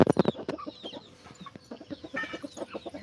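Chickens clucking close by in a home setting, a burst of loud sharp clucks followed by a steady run of softer, rhythmic clucks and calls.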